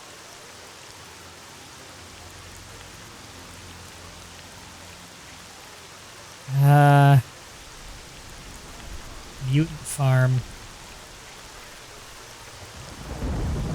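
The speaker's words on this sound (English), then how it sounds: "God, that rain is loud now. It was silent before." Rain and rolling thunder in the video game STALKER: Shadow of Chernobyl, a constant hiss of rainfall with a brief spoken line and a few short voice bursts over it.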